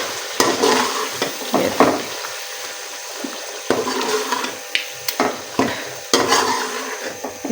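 Spinach is stirred and fried into a curry in a pan, with repeated scraping strokes of a spoon over a wet, bubbling sizzle, loud and close.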